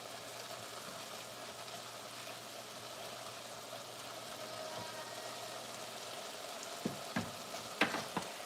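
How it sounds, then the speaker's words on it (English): Corn frying in a pan, a steady low sizzle held for several seconds that ends in a few sharp clinks and knocks of a utensil near the close, with no talking. "we are going to let all of this cook out until it starts to fry"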